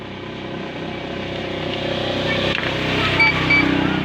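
The pump motor inside a coin-operated water vending machine runs under repair, giving a steady mechanical hum with a faint whine that slowly swells a little louder. A brief click lands partway through.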